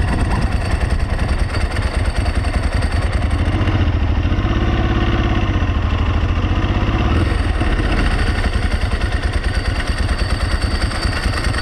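Ducati motorcycle engine pulling away from a stop, a loud close mid-pitched throttle rising from idle into steady acceleration with a clattering mechanical note, continuous throughout with no talk.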